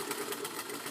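A sewing machine stitches fabric with a fast, even mechanical whir that runs steadily and fairly close for a brief moment.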